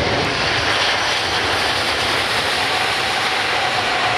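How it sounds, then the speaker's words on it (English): An Airbus A380 airliner flying at the Farnborough airshow makes a loud, sustained jet roar that holds steady throughout. "the largest airliner in the world. Airborne"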